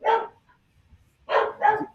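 A large husky-like dog barks loudly and close by, one deep bark, a pause, then two more quick barks in succession, with no talk over it.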